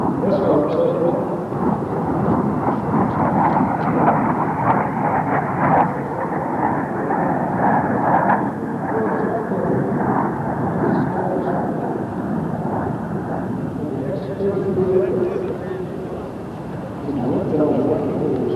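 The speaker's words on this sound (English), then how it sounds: "SR-71." An SR-71 jet aircraft at an air show at Edwards AFB, a broad sustained roar lasting throughout, heard from a distance with a rumbling, thunder-like quality, and speech from a public-address announcer over it.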